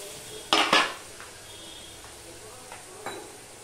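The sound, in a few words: spice paste being fried and stirred in a pan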